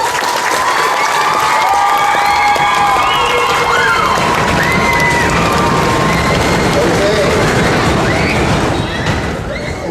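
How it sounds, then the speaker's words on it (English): A high school awards crowd applauds and cheers for volleyball players, with loud continuous clapping, whoops and shouted voices sustained throughout at close range. "So let's give those players a round of applause."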